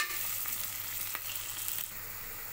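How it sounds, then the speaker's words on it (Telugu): Onions for a village-style mutton curry fry and are stirred in a pan until golden brown. They make a steady, close sizzle with light stirring scrapes and no voices. "ఇలా కలుపుతూ గోల్డెన్ బ్రౌన్ కలర్ వచ్చే వరకు వేయించుకోవాలండి."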